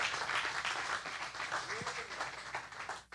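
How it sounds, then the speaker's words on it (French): A church congregation applauds during a bilingual sermon, dense steady clapping filling the space for about three seconds before cutting off, with voices mixed in beneath it. "Let's give the Lord a clap offering."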